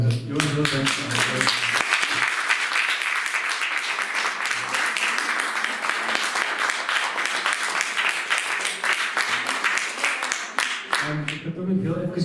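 An audience applauds after an artist talk, with dense, steady clapping filling the room for about ten seconds before fading, and some voices heard at the start and end.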